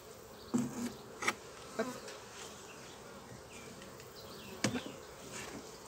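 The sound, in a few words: honeybees buzzing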